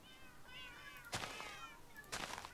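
Cats meow in the Minecraft video game with a couple of near, tonal harmonic calls, then two louder, brighter bursts closer together later on, with no talking.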